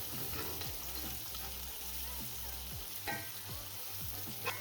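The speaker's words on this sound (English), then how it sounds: "Okay, so mushrooms are nicely fried off." Mushrooms fry in a pan for a Tuscan chicken dish, giving a steady, close sizzle with the scrape of stirring and occasional light clinks, and no talking.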